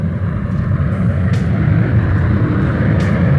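A Union Pacific gas turbine locomotive roars with a deep, jet-like rumble, loud and continuous, its heavy low drone holding steady without a break.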